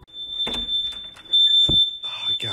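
A smoke alarm blares with a steady high-pitched tone, set off by cooking in a kitchen, while people talk and react loudly over it.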